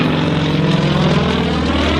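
Yak-55M aerobatic plane at an air show, its propeller engine roaring loud and close at high power in a steady, throbbing drone with no voices.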